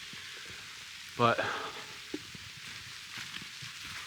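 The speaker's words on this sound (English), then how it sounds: "it's really starting to rain now" Rain begins to fall outdoors on land being cleared of brush, a steady soft hiss throughout, with a brief spoken word near the start.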